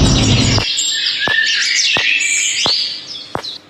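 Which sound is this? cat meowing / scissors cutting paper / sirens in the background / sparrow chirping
sparrow chirping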